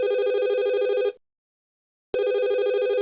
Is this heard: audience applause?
no